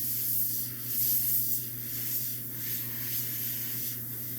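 Airbrush spraying paint onto a custom quarter-scale Shadow Cat figure, with soft continuous hissing that swells and fades in short bursts, close and fairly quiet.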